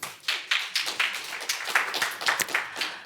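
A short burst of clapping from a small group, brisk and close, lasting a few seconds.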